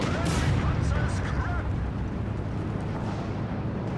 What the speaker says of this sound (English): a Crusader tank goes up in smoke and fire